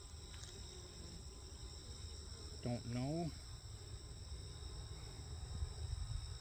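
A steady, high buzzing of honey bees at a hive drones in the background, with someone briefly speaking a few words partway through.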